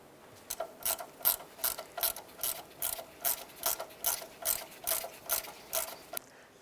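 A ratchet snugs down a strut flex line bolt on a Ford Fiesta, with a quieter series of evenly spaced, crisp pawl clicks in repeated strokes, close up and alone.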